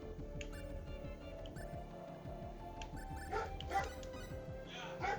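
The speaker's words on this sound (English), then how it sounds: "What is going on with this dog?" A dog in the video game Star Ocean Second Evolution gives repeated short yips and whimpers over a rhythmic ticking game soundtrack, fairly faint and set back in the mix.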